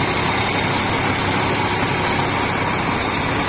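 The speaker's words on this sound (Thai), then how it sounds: "เครื่องยนต์ JO 8C นะครับ เทอร์โบ260แรงมา" A 2021 combine harvester's JO8C turbo diesel engine running close by, a loud, dense, continuous roar with a deep low-end rumble, alone and unchanging throughout.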